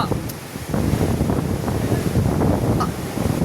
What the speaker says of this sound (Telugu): చూసారుగా హోర్, అదే ఆ గాలి హోర్ చూసారుగా